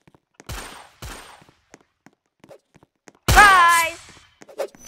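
Gunfire from a Valorant match, heard as a loud burst of sharp shots about a third of the way in, with scattered smaller impacts around it.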